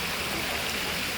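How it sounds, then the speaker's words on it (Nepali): A mountain stream rushes in a steady, dense hiss of flowing water, close and unbroken. "यस्तो खोला"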